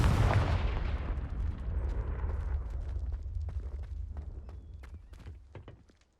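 A Confringo spell explosion in the video game Hogwarts Legacy opens with a heavy booming blast that rumbles and fades over several seconds, with scattered crackles and debris pops as it dies away.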